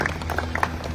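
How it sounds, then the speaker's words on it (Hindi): Audience applause for performers at a live stage event, a brief burst of dense clapping from a crowd, heard close and fairly loud. "एक बार जोरदार तालियों से हम चाहेंगे कि हमारे कलाकारों का हौसला बढ़ाएं"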